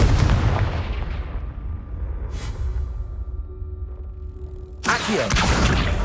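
A Confringo blast spell goes off in the Hogwarts Legacy video game: a loud, booming explosive burst with a rumbling low tail, followed by a second sharp blast near the end.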